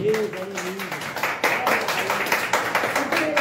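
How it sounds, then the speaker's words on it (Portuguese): Church congregation clapping together in praise, a rapid close patter of many hands while a voice sings or calls out over the top. "Louva a Deus com suas palmas em nome de Jesus"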